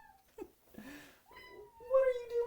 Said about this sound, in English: For anyone hearing rustling in the background, that is my cat playing in the corner.